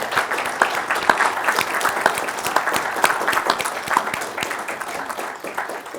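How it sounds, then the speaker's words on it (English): An audience claps for a visiting ambassador at a morning military leadership event, a lively round of individual claps with distinct sharp hits over a crowd wash, steady then tapering slightly. "Let's give a round of applause for the ambassador this morning"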